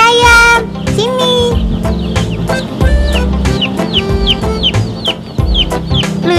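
Chickens and chicks on a farm cluck and squawk over a dense musical backing, with repeated short bird calls throughout and no talking.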